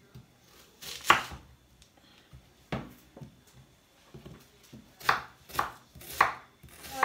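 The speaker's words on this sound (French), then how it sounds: "on va commencer à couper d'abord nos oignons" Onions for poulet yassa being chopped with a knife on a board, a few irregular bursts of sharp chopping strokes separated by brief pauses, close up with no voices.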